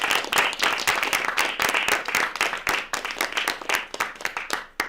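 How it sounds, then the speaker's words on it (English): Enthusiastic applause from a studio audience, dense clapping sustained throughout and tapering slightly toward the end. "a big round of applause for our studio audience today"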